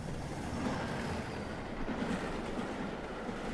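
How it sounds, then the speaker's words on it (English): Train on the Hundred of Hoo branch line crossing a level crossing near Higham Church: a steady, moderately loud rolling rumble with a broad rushing wash, unbroken from start to end with no voices. "The train now passes over a level crossing close to Higham Church."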